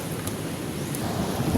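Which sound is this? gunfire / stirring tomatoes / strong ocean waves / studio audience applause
strong ocean waves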